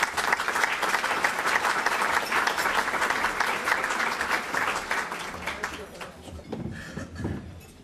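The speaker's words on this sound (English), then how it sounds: "We have a round of applause." Audience applause at a leadership prayer breakfast, a dense sustained round of clapping from a large crowd that fades toward the end as a voice begins speaking.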